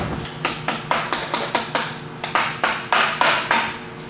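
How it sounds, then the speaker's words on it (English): A hammer taps metal in a steady series of about a dozen sharp, ringing strikes, close by with no talking. "let me get a hammering utensil"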